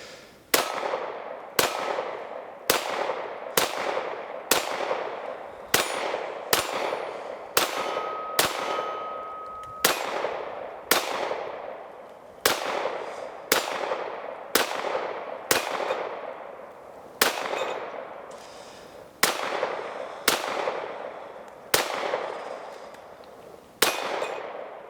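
A KelTec PMR30 pistol fires more than twenty sharp, cracking shots in a steady, fairly quick rhythm, each with a short ringing tail, close and loud with no talking.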